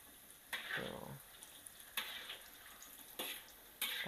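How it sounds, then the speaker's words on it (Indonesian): Battered pork belly frying crisp in a pan is stirred in four separate scraping, sizzling bursts over a faint, quiet background hiss. "Kita aduk-aduk."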